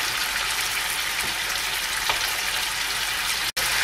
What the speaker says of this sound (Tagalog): i-turn over lang natin yung ating beef habang pina-fry para even yung ating pagkakaluto